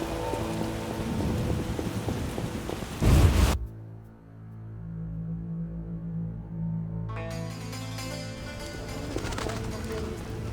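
A thunderstorm with rain plays in the video game The Witcher, a loud crack of thunder breaking through the rain before the sound drops out briefly, then rain and ambient tones return.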